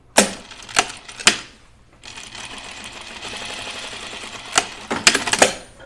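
A home sewing machine stitches stretch knit fabric for a dress. It gives a few short clattering bursts, pauses, then runs in a longer continuous whir that ends in quick stop-start bursts.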